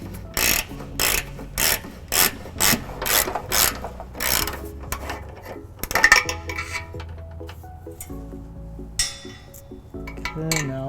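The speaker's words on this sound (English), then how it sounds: "I'll be using a ratchet 5-inch extension and 17mm socket to take these down." Short rhythmic ratcheting bursts from a ratchet with a 5-inch extension and 17mm socket loosening trailer hitch bolts on a 2015 Toyota Prius Plug-In, about eight even clicks close up, then scattered clinks and metallic handling.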